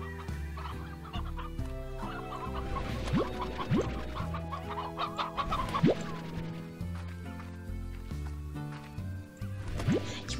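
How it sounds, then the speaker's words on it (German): Chickens in the video game Slime Rancher cluck repeatedly over a steady game music bed, with short rising squawks in the middle of the clip. "Ich muss hier immer ein bisschen leise sein, damit ich die Hühner höre."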